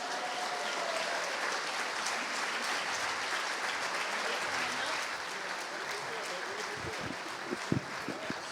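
Steady, sustained audience applause fills a hall at the St. Louis Sports Hall of Fame enshrinement for Ray Lankford, dense and continuous, with a few louder claps and murmurs poking through near the end.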